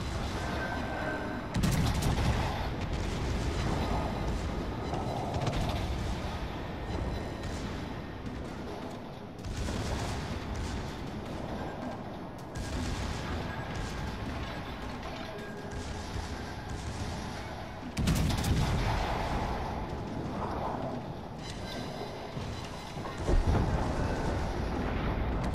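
Naval gunfire booms in World of Warships from a Tier 7 Bismarck-class battleship battle, with heavy salvos bursting at irregular intervals over a constant roar of battle noise.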